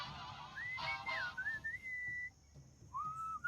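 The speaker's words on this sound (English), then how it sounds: "What is that enchanting whistling sound?" Melodic whistling in the video game Sam & Max: Beyond Time and Space, a clear wavering tune heard alone over faint background, pausing briefly before resuming.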